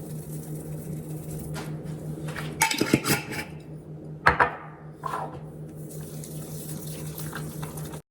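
Cottage cheese, egg and oregano being combined in a bowl, with a steady low hum underneath and a couple of louder clinking, scraping strokes against the bowl in the middle.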